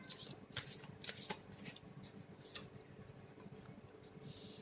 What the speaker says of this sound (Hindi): अवेकनिंग के और 2 कार्ड्स निकाल लेते हैं